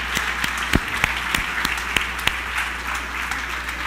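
A church congregation applauds, a dense, steady wash of many hands clapping at moderate loudness, with a few sharper nearby claps standing out.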